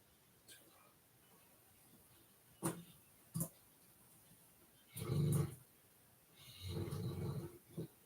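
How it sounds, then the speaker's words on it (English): Quiet room with a few soft, rumbling snores from a nearby dog, spaced irregularly between brief faint noises. "if you hear a dog snoring, it's my dog. He's in here snoring."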